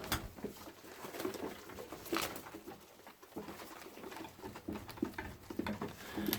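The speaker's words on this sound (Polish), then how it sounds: "Młode gołębie można przyzwyczaić." Young pigeons in a loft make soft cooing calls amid wing flutters and the pattering of feet, faint and close, scattered irregularly with no talk.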